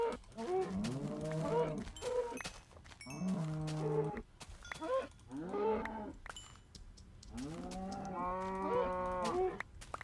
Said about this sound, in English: Cow, get out of my way!